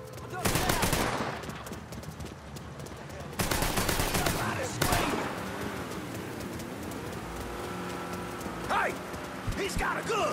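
Mafia III gunfire crackles in bursts amid a game shootout, with sharp shots early and again midway, layered over shouting voices and ambient bird calls near the end.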